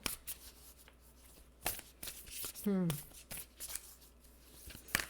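Oracle cards from an Angels and Ancestors deck are shuffled in a few quick riffling bursts, close and fairly quiet, between stretches of someone speaking.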